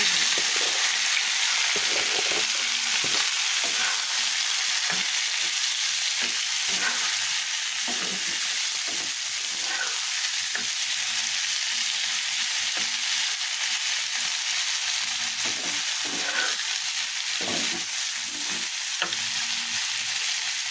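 Spinach fries in a pan with onion, garlic and green chilli, giving a steady, loud sizzle throughout. Now and then a spatula stirs and scrapes against the pan, and no one speaks.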